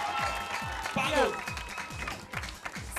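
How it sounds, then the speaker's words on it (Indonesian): A studio audience on an Indonesian morning TV show claps and cheers together, with a steady beat of claps under loud voices and whooping. "mana tepuk tangannya"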